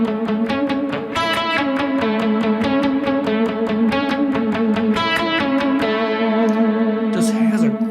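An electric guitar played through an Eventide vibe effect with reverb, a loud, sustained, pulsing strummed tone with swirling modulation throughout.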